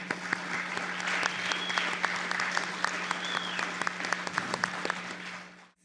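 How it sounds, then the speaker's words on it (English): A round of applause for two candidates at a local town debate, many hands clapping steadily for several seconds over a low electrical hum, then cutting off. "Let's give these 2 great candidates a round of applause"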